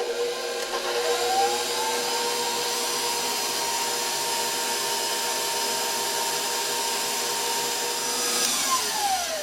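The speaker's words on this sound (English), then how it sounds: "we're gonna give this a mix for about just a minute" A mixer whirs steadily and loudly through brownie batter with sugar added, a constant close motor drone with no pauses.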